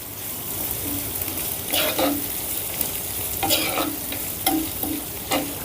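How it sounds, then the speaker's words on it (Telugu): Boiled potato pieces frying lightly in a pan, a steady close sizzle broken by several short scraping stirs at irregular intervals, with no talking over it. "ఇది లైట్గా మనం ఫ్రై చేసుకుంటున్నాం"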